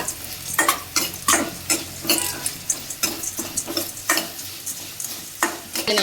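Spices for homemade vangibath masala are stirred in a hot pan, a spoon scraping in repeated strokes over a steady, close sizzle, with no voices.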